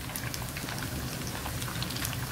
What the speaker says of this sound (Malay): kita goreng sampai dia garing ya